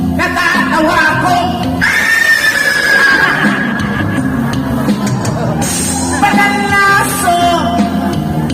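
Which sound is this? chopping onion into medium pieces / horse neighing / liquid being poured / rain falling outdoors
horse neighing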